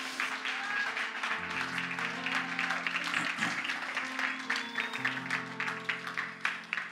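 A church congregation claps steadily through a Sunday worship service, sustained, fairly loud applause with a low sustained organ or keyboard chord underneath.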